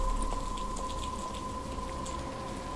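Soft, steady rain patters on surfaces in the Batman Arkham Asylum video game, a quiet even wash of droplets with faint low hum underneath and no voices.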